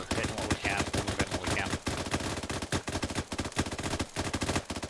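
Dense, loud gunfire from the military shooter game Arma 3, with rapid automatic bursts and overlapping single shots rattling continuously for several seconds.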